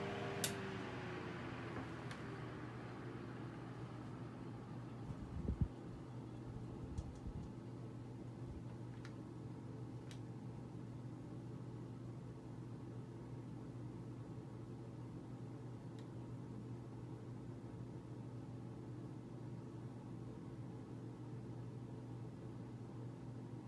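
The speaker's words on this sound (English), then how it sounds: "the fan has a really good spin down time" A 10-inch Westinghouse Pacemaker table fan spins down after being switched off, its steady low hum and soft whir fading slowly over a long stretch, with a few faint ticks and clicks early on.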